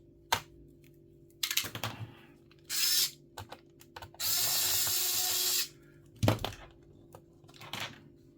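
Screwdriver fitted with a Torx bit undoing Phillips screws on an old Lenovo IdeaPad 3 laptop, heard as bursts of close metallic ratcheting and whirring with clicks and pauses between turns.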